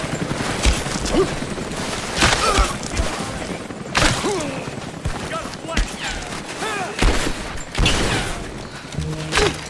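Gunfire in the video game Rise of the Tomb Raider: repeated sharp bursts and thuds crackle irregularly throughout, mixed with in-game voices shouting and other combat noise.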